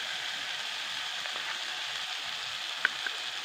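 Chopped onions sizzle steadily in a hot pan, a soft continuous frying hiss with a couple of faint clicks near the end.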